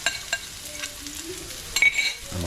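Onion being added and stirred in a hot pan with mushrooms, giving a steady low sizzle with a few scraping stirs and a brief clatter toward the end, fairly quiet and close.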